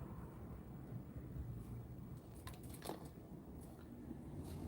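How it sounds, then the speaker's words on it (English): Wind rushes and buffets against the microphone in a low, steady roar, with faint gusty flutters rising now and then. "it is actually the windiest I've seen it since I've been here"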